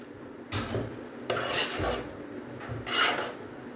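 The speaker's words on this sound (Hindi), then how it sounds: "इसको मैं अच्छे से अब मिक्स कर दूँगी।" Cream being mixed into a sweet dessert in a pot, three raspy scraping strokes of a spoon against the pot, close and fairly quiet with no talking.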